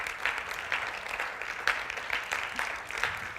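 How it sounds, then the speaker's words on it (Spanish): Congregation applauding during a church sermon, a fairly faint, continuous patter of clapping with a few sharper claps standing out, heard from a distance. "Dale un aplauso a Dios"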